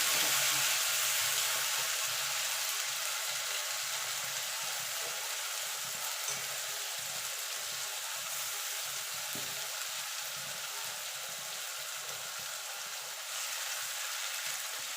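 A ground spice paste hits hot oil tempered with black cumin while cooking tangra fish in a spicy oil curry, giving a continuous bright sizzle and crackle that holds steady throughout with no talking.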